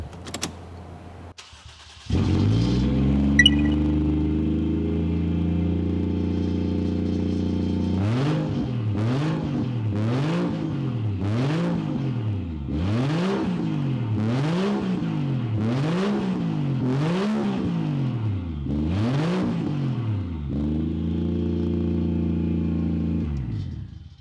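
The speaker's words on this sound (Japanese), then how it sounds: "一回この状態でどんな感じかっていうのをエンジンをかけてみます。" A Toyota JZX100 Mark II with no rear muffler or silencers, only the catalytic converter fitted, cranks and starts, then idles loudly and is blipped through a run of rhythmic revs before settling back to a rough, booming idle, close up.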